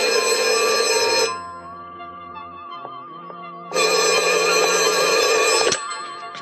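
A telephone bell rings loudly in two long bursts separated by a quieter pause with a low tone, close by and with no one talking over it.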